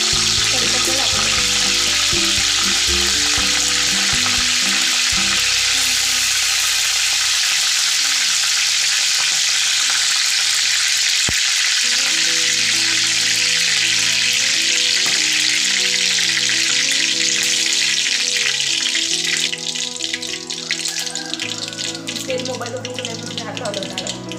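Curry leaves fry and crackle in hot oil in a home kitchen, a loud, steady sizzle with stirring close by, while a faint voice speaks at times in the background.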